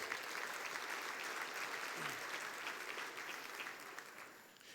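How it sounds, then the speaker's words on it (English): Sustained applause from an audience at an evening awards banquet in a casino hotel ballroom, steady dense clapping throughout that tapers slightly toward the end. "A round of applause, please."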